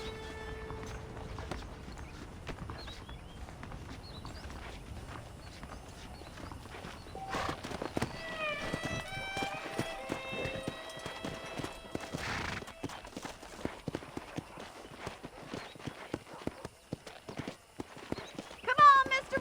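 Horse hooves clip-clop at a steady walking rhythm in Red Dead Redemption, with an occasional whinny and other game sounds; moderately loud, no talking.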